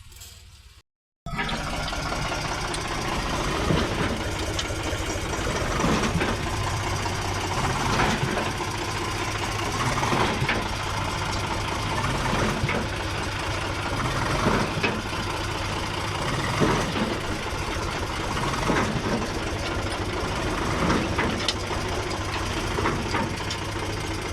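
A tractor engine runs steadily while stuck in a muddy farm field, a close, continuous mid-pitched chugging drone with a faint knocking pulse, holding loud after a brief silent start.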